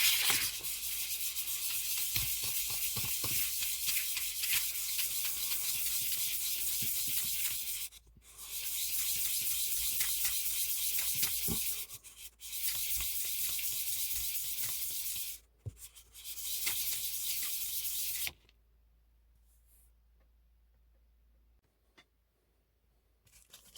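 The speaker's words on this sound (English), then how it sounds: "Sand all sides." A hunting knife is hand-sanded with 1000 grit paper in steady, close, continuous rubbing strokes. There are three short pauses, and the sanding stops near the end, leaving quiet room tone.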